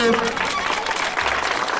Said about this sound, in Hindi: तो जोरदार तालियों से